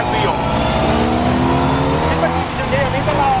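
An Autobianchi A112 engine drones steadily up close at a rally, its tone shifting slightly as it revs, while a person talks over it.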